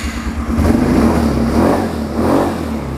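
A 200 cc ATV engine revs during a test run, loud and close, with a steady mid-pitched drone that surges twice as the throttle opens.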